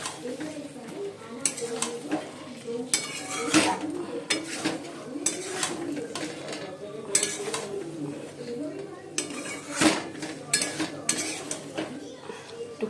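Fried potatoes tipped into a pan of chicken curry and stirred, with repeated loud spoon scrapes and clanks against the pan over a low sizzle, while people talk in the background.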